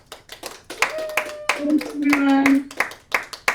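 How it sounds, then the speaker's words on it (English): A round of applause from an evening speaker-series audience: scattered claps under a speaker's talk, with a voice and warm chatter overlapping in the middle. "let's give everybody a round of applause"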